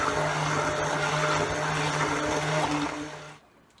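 Blender whirring steadily as it mixes soap with calendula and rose flowers, a loud continuous motor drone that cuts off abruptly near the end.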